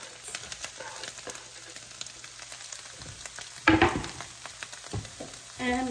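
Carrot sizzles as it is stir-fried for Indonesian mie goreng noodles, with a steady frying hiss under repeated scraping and stirring strokes and a louder clatter partway through. No one speaks.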